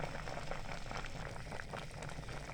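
Sugar syrup boiling with carrots for carrot murabba, a continuous, dense bubbling and popping simmer that stays close and steady from start to finish.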